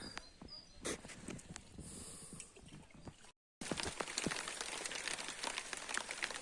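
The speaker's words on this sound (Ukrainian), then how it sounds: "Ось так виглядає довгоочікуваний дощ." Rain patters and splashes on surfaces, lighter at first then turning into a steadier, denser shower after a brief pause.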